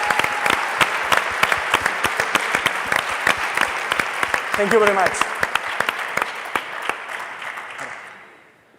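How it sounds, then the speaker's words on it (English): Audience at the IdeaUp Challenge 2021 final gala applauding the winners, loud crisp clapping with many distinct claps, a brief spoken thanks partway through, then the applause fades out. "Round of applause for them."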